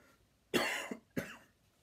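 Two close, harsh coughs from one person, loud and near, separated by a brief pause against a quiet background.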